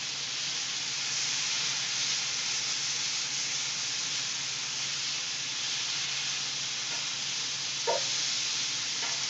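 A steak fries in a pan with a steady, moderately quiet hissing sizzle that holds evenly throughout, broken by a small crackle near the end, with no talking.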